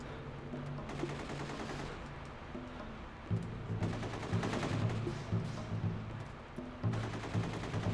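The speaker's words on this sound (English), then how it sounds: "I hear shooting, but I don't see any enemies" Gunfire from The Getaway video game rattles in dense, repeated bursts at a steady loud level, with a low droning tone underneath and no voices.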